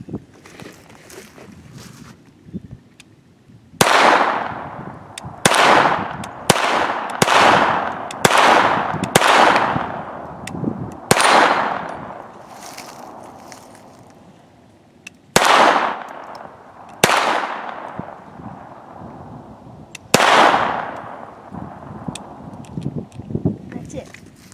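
Smith & Wesson M&P 22 rimfire gunshots fired at golf balls outdoors, about ten sharp cracks with ringing decays, spaced irregularly, loud against a quiet background.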